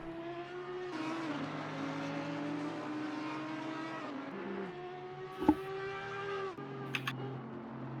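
A GT race car laps Brands Hatch in Assetto Corsa Competizione, its engine note rising and falling through gear changes with a sharp click and brief chirps near the end, no talk.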